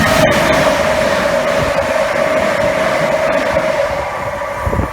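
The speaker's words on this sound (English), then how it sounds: "we've got a pair of Southern Class 377s going from Milton Keynes to Clapham Junction" A pair of Southern Class 377 electric trains passes on a main line at Cheddington, making a loud, continuous rolling roar with a steady droning whine and a few sharp clicks early on.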